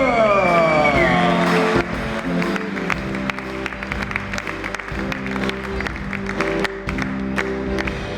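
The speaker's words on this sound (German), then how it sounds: "Herzlichen Applaus, der Brüder Widmer!" Party guests at a Basel beer anniversary celebration clap for two brothers amid live band music, the clapping scattered and uneven after a loud voice, mixing with ongoing instrumental tones and crowd noise.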